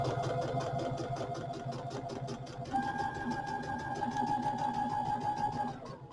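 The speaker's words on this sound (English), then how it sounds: "I'm going to sew" A sewing machine stitching quilt fabric runs in a steady, rapid mechanical patter, its motor humming close and clear throughout, with a rising whine partway through as the pace changes.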